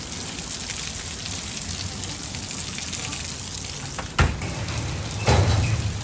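Steady heavy rain drums on a Reactive Outdoor 3s tent, with a couple of louder gusts or splashes near the end; a voice briefly exclaims.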